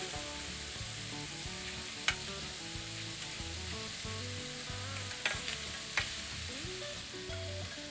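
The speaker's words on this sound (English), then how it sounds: "these cook really fast, so about a minute on each side, roughly." Shrimp fry in a hot pan with a constant close sizzle, a few sharp pops and utensil clicks breaking through now and then.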